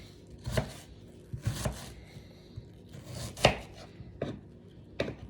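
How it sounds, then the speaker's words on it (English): A knife dices an onion on a cutting board while stew chicken is being prepared, giving about six sharp, close chops in an irregular rhythm with short pauses between them. No one speaks. "And again, you want to dice all this up too."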